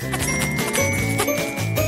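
A bell rings from inside a wall, giving bright tinkling chimes in a short musical passage with a steady tonal backing throughout.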